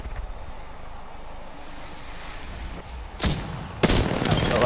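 Gunfire in Apex Legends: two sharp, loud broadband bursts land late in the clip over a steady wind-like in-game ambience, with no talking.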